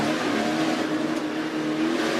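A race truck's engine revving hard as the driver accelerates off the wall at the CarCash Mudsummer Classic, a sustained loud droning roar close by, with no talk over it.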